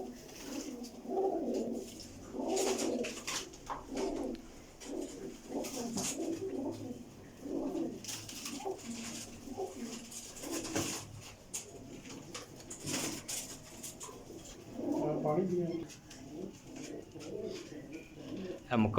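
Pure-breed pigeons kept for sale in Pakistan coo softly and repeatedly, in steady overlapping bursts close by, while people talk nearby.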